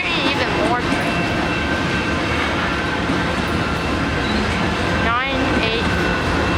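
Loud, close rolling rumble of a Canadian Pacific freight train hauling rail cars past at Pitt Meadows, with steady wheel clatter and a short squeal near the end.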